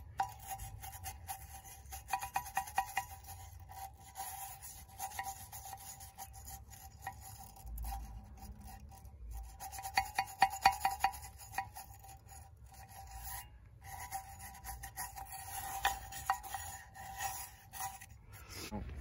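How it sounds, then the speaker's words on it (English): Brush scrubbing gunk from a steel Crown Vic police wheel rim: faint, intermittent rubbing strokes with occasional light clinks, close but quiet, with no talk. "I'm gonna take a brush, clean some of this gunk out of here"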